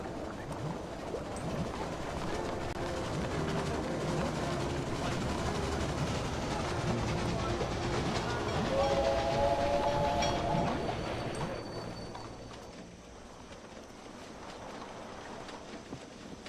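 Railway Empire video game trains rumble and clatter steadily in a dense, continuous wash of rail noise with a brief tonal whistle-like sound midway, fading somewhat near the end; no speech over it.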